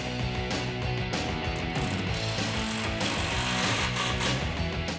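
Ratchet clicking in quick, steady runs while clamps are tightened onto the polished exhaust tips of a 2018 Mustang GT Fastback's Corsa Xtreme cat-back system, close and clear with no talking.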